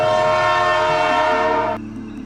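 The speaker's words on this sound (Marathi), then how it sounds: "दूरवरून ट्रेनचा हॉर्न ऐकू आला।" A loud, sustained train horn blares with a rich harmonic tone, then cuts off abruptly, leaving a low rumble behind.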